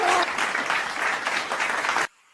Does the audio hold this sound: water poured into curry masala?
no